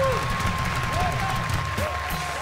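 A studio audience on a Colombian television talk show applauds, a broad clapping wash running steadily under a voice for the whole short stretch.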